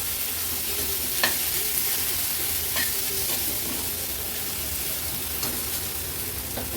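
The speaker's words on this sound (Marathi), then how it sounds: "मटकी पण मसाल्यामध्ये मिक्स करून घेते" Sprouted moth beans (matki) stirred in sizzling spicy misal masala: a steady close frying hiss with a few sharp spoon scrapes at irregular intervals.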